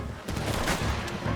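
Gunfire in Red Dead Redemption 2 during a mounted escape, a dense burst of overlapping shots filling the mix at close range with no pauses between reports.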